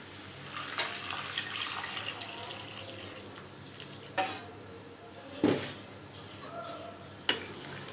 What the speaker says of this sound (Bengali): এখন আমরা গরম পানিটা দিয়ে দেব।